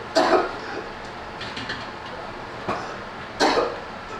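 A few hoarse coughs from a patient in a medical emergency simulation ring out, one at the start, then a couple more after pauses, over a low background hum.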